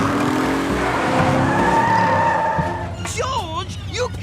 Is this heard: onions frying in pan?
no